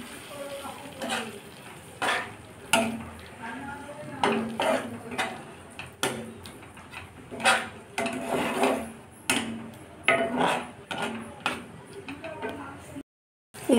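Masala being stirred and fried in a pan with whisked yogurt, giving repeated metallic scrapes and clinks of a spoon against the pan over a soft sizzle, close and steady, with a brief pause near the end.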